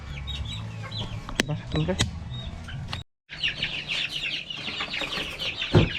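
One-month-old chicks cheep and cluck in a pen, with scattered high peeps and soft clucks close by, a brief pause, and a person speaking briefly.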